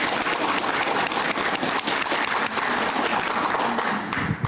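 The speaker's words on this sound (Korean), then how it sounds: "박상돈 시장님께 박수를 안 보낼 수가 없어요" A seated audience claps at the opening of the 2022 Cheonan art forum and nationwide art exchange exhibition at Cheonan Arts Center, a dense, steady round of applause held at even strength throughout.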